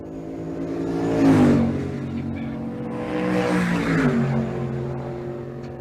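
At a drag-and-drive event, a 1971 Chevrolet C10 and a 1999 Silverado drag race, their loud engines roaring up and sweeping past in two surging waves.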